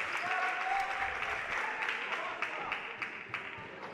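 Crowd at a girls high school basketball game in a gym erupts in sustained applause and cheering for a made basket, loud and dense throughout, with scattered individual claps and shouts standing out as it gradually thins.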